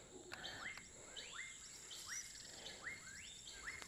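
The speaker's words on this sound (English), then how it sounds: "You can hear wild animals and kinds of strange bird noises coming from the jungle there" Strange bird calls from a jungle in a PSVR video game, a repeating series of rising whistled chirps several times over a steady insect-like buzz and faint background ambience, with no talking.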